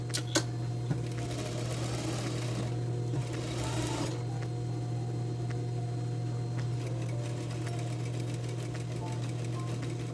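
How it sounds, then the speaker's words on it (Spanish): A sewing machine stitches a double seam along a zipper on men's jeans, a continuous close mechanical hum and rapid needle chatter running steadily throughout with no talk. "Allí atraco y vuelvo a pasar la costura para hacer doble costura."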